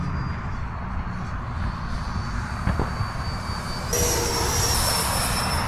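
Freewing Mirage 2000C V2 80mm EDF radio-controlled jet in flight, a steady broadband ducted-fan roar with a thin high whine that brightens and grows louder partway through.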